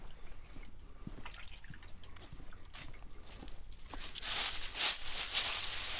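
Water trickling and dripping through a partly frozen trough, with irregular small splashes and a steady faint hiss that grows louder toward the end.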